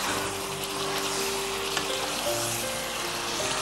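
Chicken curry with onions sizzles and fries steadily in a pan, with occasional stirring scrapes over a continuous close, even frying hiss.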